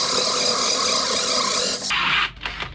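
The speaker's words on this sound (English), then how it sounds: "if I wiggle, I can gradually drill down" Drill bit grinding and rasping through material while being wiggled, a loud steady cutting noise that suddenly cuts off, followed by a few brief scrapes.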